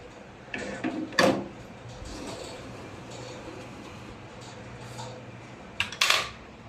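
An oven in a home kitchen is opened to take out a baked mango dish, with two sharp metallic clunks and rattles of the door and tray separated by quiet hum.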